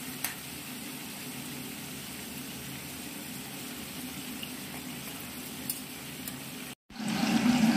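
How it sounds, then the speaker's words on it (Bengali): Fish heads frying in hot oil for a Bengali muri ghonto, a steady soft sizzle running throughout, broken by a brief silence near the end before a louder burst of frying. "মাছ মাথাগুলো ভাজা হচ্ছে"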